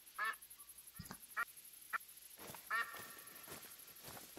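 A duck in the Hunter Call of the Wild game, on the Vurhonga Africa map, gives a run of sharp separate quacks, about six spread unevenly over a few seconds, fairly close against a quiet background.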